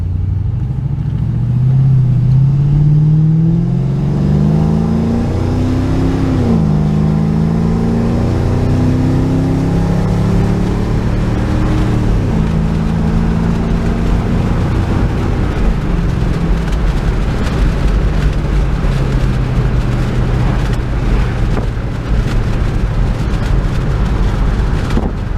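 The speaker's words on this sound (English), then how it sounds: "It's shifting through all the gears." A 2005 Mustang engine revs loudly and climbs in pitch through each gear, with shifts audible as drops before it pulls again, ending in a steady lower drone as it cruises.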